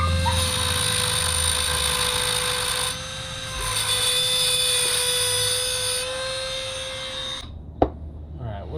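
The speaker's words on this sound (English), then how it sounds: "I took my little Dremel with the cutoff wheel and I cut the whole stupid brake line deal off" A small Dremel rotary tool with a cutoff wheel cuts through a truck's brake line, giving a continuous high-pitched motor whine that dips briefly mid-cut and then stops, followed by a sharp click and quiet.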